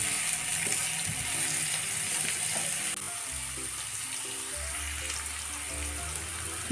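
Chopped onion and capsicum fry in a pan for a bhindi egg fry, a steady, gentle sizzle that hisses continuously in the background, with soft kitchen music underneath and no talking.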